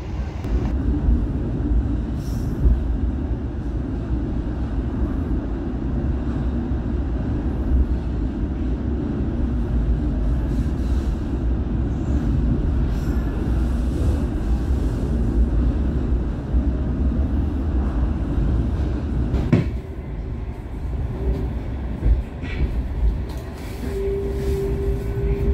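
The Gumarang passenger train rumbles steadily along, a low continuous running noise with faint rattles throughout.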